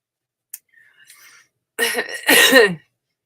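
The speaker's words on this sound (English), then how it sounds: "That made me cough." A faint click and soft rustling, then two loud, harsh coughs close to the microphone, one right after the other, with no talking.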